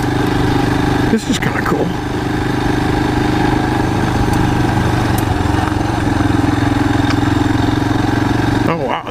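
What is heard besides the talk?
Royal Enfield Himalayan motorcycle engine while riding off-road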